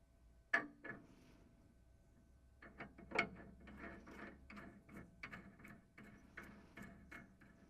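Metal nut spun onto a 1 inch bolt, giving a series of quiet close clicking, ratcheting threads with a sharp clack at the start and another a few seconds later, alone without speech.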